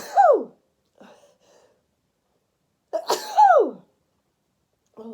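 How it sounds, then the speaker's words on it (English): A person sneezes twice, each a sharp, loud burst with a sliding wail-like tone, separated by a quiet pause with a faint breath, then a small sound begins at the end. "and I'm going to sneeze."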